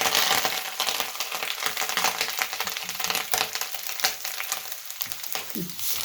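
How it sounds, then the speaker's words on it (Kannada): Grated coconut and curry leaves fry in coconut oil with mustard seeds, making a close crackling sizzle full of sharp pops and spatters over a steady frying hiss. "ಈ ತೆಂಗಿನಕಾಯಿ ಕಂಪ್ಲೀಟಾಗಿ ಕೆಂಪಗಾಗೋವರೆಗೂ ಫ್ರೈ ಮಾಡ್ಕೋಬೇಕಾಗತ್ತೆ"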